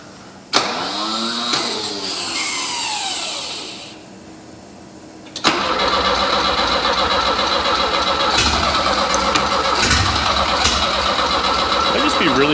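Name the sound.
Volvo P1800 engine cranking and starting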